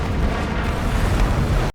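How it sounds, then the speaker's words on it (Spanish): Explosion sound effect in a Batman film recap, a loud, dense roaring blast sustained for under two seconds before cutting off abruptly. "Rachel muere en la explosión"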